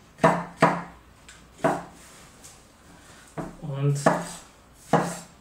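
Mushrooms sliced with a knife on a board for a flatbread pizza: several sharp, close chopping knocks in an uneven rhythm, with a brief scraping sound in between and a short spoken word.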